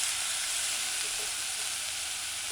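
Herbs stirred into a meatball tomato stew sizzling steadily in a pan over a low stove, a continuous close frying hiss with no voices.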